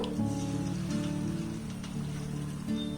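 Small pakoras frying in hot oil in a kadai give a steady, dense crackling sizzle like rain on a surface, continuous and close, with a low hum beneath.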